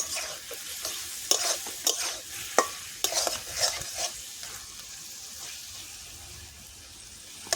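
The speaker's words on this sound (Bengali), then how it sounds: "এবার কিন্তু আমি বেগুন দিয়ে দেবো বেগুনটা দিয়ে ভালো করে একটু কষিয়ে নেবো" Eggplant stirred and fried in a spice paste in oil for a Bengali rohu fish curry, a soft sizzle under repeated scraping spatula strokes and light knocks, close, then quieter toward the end, with no talk.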